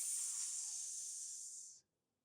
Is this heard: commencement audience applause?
no